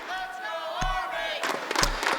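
Army fans cheering and shouting in a crowd at a Rainbow Six esports match in Las Vegas, a steady roar with sharp bursts and whistles over a musical tone.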